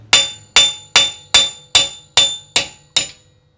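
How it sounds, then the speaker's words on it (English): Eight sharp metallic hammer strikes ring out at a steady, even pace as wheel studs are hammered out of a hub, each one clanging close and loud before fading quickly. "we're just gonna hammer each one of these out"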